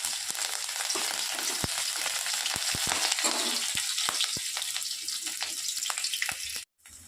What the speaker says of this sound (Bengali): তেল গরম হয়ে গেছে, দিয়ে দেবো এর মধ্যে কালো জিরে ফোড়ন